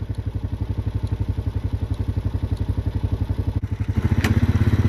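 Honda motorcycle engine chugging with a steady pulsing idle, then revving up louder near the end as the bike pulls away, close by with no talking.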